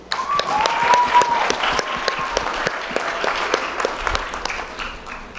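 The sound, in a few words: graduation audience applause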